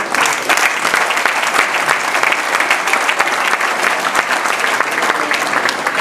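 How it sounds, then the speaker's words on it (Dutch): An audience at a charity auction in Genemuiden bursts into loud, sustained applause, with dense, even clapping filling the room throughout and no pause. "Ik wil een echt mega applaus voor Sein"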